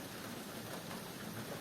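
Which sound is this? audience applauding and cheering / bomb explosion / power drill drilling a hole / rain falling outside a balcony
rain falling outside a balcony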